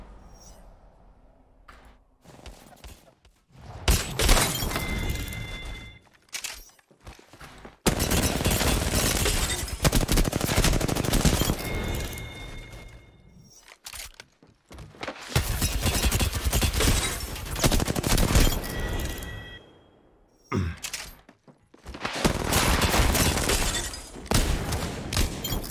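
Gunfire in Apex Legends played on R5Reloaded during a 1v1 fight: loud bursts of rapid automatic shots come in several clusters separated by short pauses, with sharp impacts and occasional metallic clatter, and a voice speaks briefly between the bursts.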